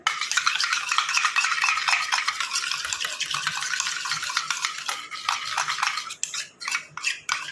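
A utensil stirring homemade face cream in a bowl until it turns into a thick gel, heard as rapid close scraping and clicking strokes that continue steadily, then become choppier toward the end.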